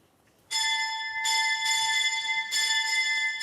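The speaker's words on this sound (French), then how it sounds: "Au petit matin, à l'abbaye de Chantelle, les cloches sonnent la prière des laudes." Abbey church bells ring at dawn for lauds, the morning prayer, at a Benedictine abbey in Chantelle; bright, sustained metallic tones start abruptly and swell in repeated strokes, loud and steady with no voices.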